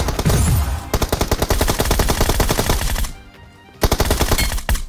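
Rapid automatic gunfire from a shooter video game in dense, loud bursts of sprayed shots, a brief lull near the end, then another burst.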